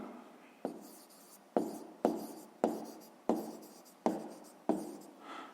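A pen scratches out a sixth-grade maths exercise on paper in a run of about eight sharp strokes, each starting with a crisp attack and fading quickly, close and quiet with no talking.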